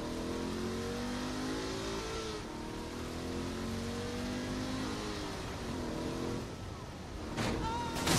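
A car engine in Saints Row: The Third revs steadily throughout, with rising and falling pitch sweeps from driving, loud and continuous in game audio with no talk over it.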